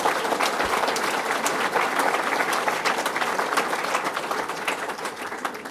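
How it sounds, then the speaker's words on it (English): Audience applause for the Finger Lakes wine industry at a governor's bass fishing challenge event: loud, dense, continuous clapping from a crowd throughout. "Let's give them a round of applause."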